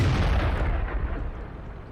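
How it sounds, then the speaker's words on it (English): A heavy KV-2 tank shell strikes in World of Tanks, opening with a loud, deep boom that rolls off into a decaying rumble over about two seconds. "That KV2 just hit me with armor."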